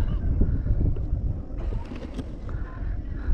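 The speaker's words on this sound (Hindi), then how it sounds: "बहुत ही अमेजिंग हवा चल रही है अभी" Wind buffets the microphone on a hilltop at Gudibande Fort. It makes a steady low rumble with gusty swells, has no voices and stays at a moderate level throughout.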